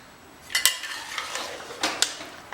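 Mutton pieces mixed by hand or spoon with spices and yogurt in a metal pot, with wet squelching strokes and a few sharp clinks against the vessel, close and fairly quiet, no voices.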